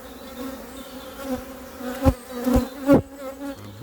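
Honeybees buzz steadily and close by during a beehive inspection, a continuous droning hum with a few louder passes as individual bees fly near. No one speaks.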